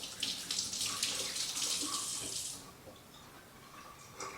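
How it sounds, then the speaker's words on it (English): Tap water runs into a sink as hands are rinsed for a couple of seconds, a close, splashing hiss that then cuts off to quiet. "I'm just going to rinse my hands quick."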